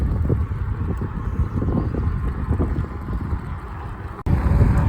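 Wind rushing past a rider on an Ecotric electric bike on a morning ride, a steady low roaring buffet close to the microphone with a brief dip near the end.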